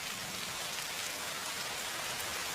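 Steady rain falls in a dense, even hiss of drops hitting surfaces, continuous and fairly soft with no voices.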